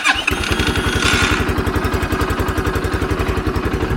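A Shineray Nitrox 300 motorcycle engine, started with a keyless fob, cranks and starts, then settles into a loud, steady, rhythmic idle close by.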